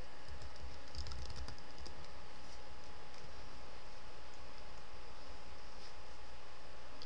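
Password being typed on a computer keyboard: a quiet run of light key clicks, with a short burst of denser tapping near the start, fading into soft background hiss.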